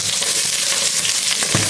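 Steady crackling sizzle of onions frying in hot oil, close and continuous, with a brief clatter near the end.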